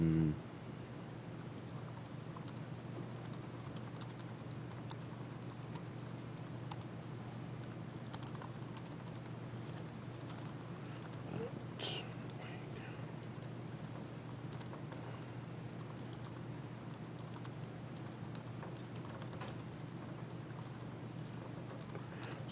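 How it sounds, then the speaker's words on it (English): Typing on a computer keyboard during an online Debian Cloud meeting, a steady patter of soft key clicks running through the whole stretch under a constant hum, with no talking. "I'm typing away and not talking"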